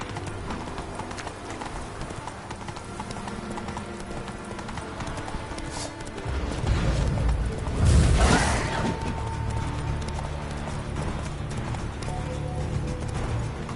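Hooves clip-clop rapidly as the horse Roach gallops in the video game The Witcher 3, a steady driving rhythm that swells midway, with a whoosh and a faint whinny in the game mix.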